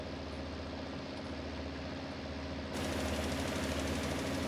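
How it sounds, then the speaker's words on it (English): A John Deere 7810 tractor in Farming Simulator 19 idles with a steady, knocking diesel drone viewed from the cab, stepping up slightly louder and rougher partway through. "That is the John Deere 7810."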